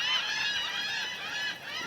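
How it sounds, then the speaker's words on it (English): Seagulls cackle and honk in a dense, overlapping chorus on a foggy, damp spring morning in South Texas, the harsh calls steady and fairly loud throughout, with no talking. "We got some cackling from the seagulls this morning."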